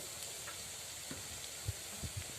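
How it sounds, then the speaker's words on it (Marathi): Onion, chili and garlic sauté in a pan with a soft, faint sizzle, punctuated by a few quiet taps and scrapes of stirring. "परतून घेते आता आपला कांदा मिरची लसूण छान परतले गेलं आहे"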